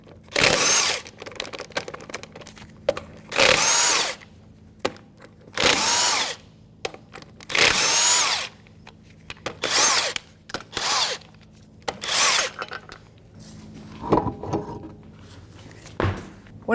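An impact-style power tool loosens 22mm lug nuts from a rear wheel of a Jeep Grand Cherokee, firing in repeated loud, close bursts of about a second each with brief pauses between them.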